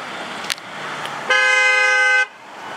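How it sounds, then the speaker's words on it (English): A single sustained car horn honk of about one second, loud and close, following a couple of faint knocks in background street traffic noise in Michigan City, Indiana. "Someone honked at someone."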